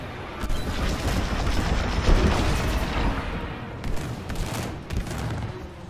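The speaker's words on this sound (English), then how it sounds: "I don't know where the lasers come from." Rapid laser blasts from enemy starfighters in the Star Wars Squadrons space combat game, a dense continuous barrage of loud overlapping shots and bursts throughout.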